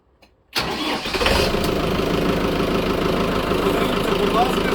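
A Lovol TB-504 mini tractor engine cranks over after a brief silence, catches, and settles into a steady, loud running rumble nearby.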